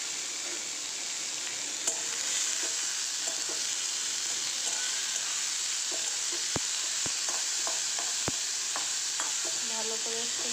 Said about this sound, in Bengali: ভালো করে একটু নেড়ে চেড়ে ভেজে নেব